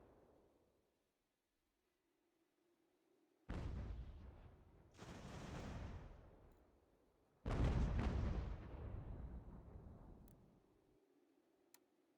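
Gunfire and artillery in an American Revolution strategy game on ultimate difficulty: two heavy booming volleys, each rolling on for a couple of seconds, loud and close with a rumbling tail, no talk.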